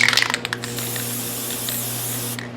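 Disc brake quiet sprayed from an aerosol can onto the backs of brake pads during a 2010 Subaru rotor and pad change: a few short taps at first, then one steady, close hiss running for about two seconds with no talking.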